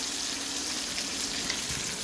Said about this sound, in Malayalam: മീൻ പൊരിക്കാൻ വെച്ചിരിക്കുന്നു